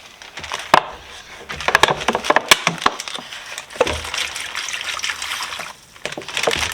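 Deoxidizing liquid trickles and splashes into a Ziploc plastic bag, with crinkly rustles and small clicks scattered throughout, fairly close.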